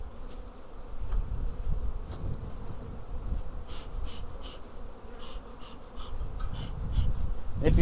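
Honey bees drone and buzz continuously at the entrance of a spring beehive as it is smoked. Close, dense buzzing runs throughout, with soft puffs and rustles underneath.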